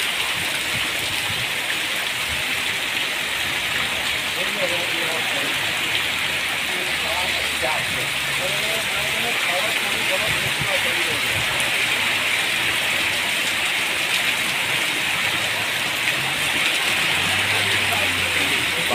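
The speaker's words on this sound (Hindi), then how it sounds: "बहुत ही तेज बारिश है, बहुत तेज बारिश है।" Very heavy monsoon rain pouring down and flooding a courtyard; a dense, loud, unbroken hiss of downpour throughout, with someone talking over it.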